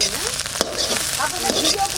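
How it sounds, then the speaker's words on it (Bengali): Egg frying in hot oil in a wok, a busy crackling sizzle with sharp spits and pops throughout, fairly close. "কড়াইতে তেল দেবো এবার ডিমটা ভেজে নেব"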